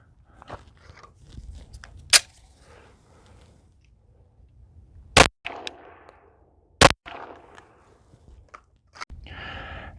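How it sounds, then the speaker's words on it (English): 9mm pistol rounds, one ball and one hollow point, fired into a pine privacy fence about an inch thick: two sharp, loud cracks a couple of seconds apart, with scattered clicks, shuffling and small knocks between them and no talk. "we're going to shoot one ball round and one hollow point"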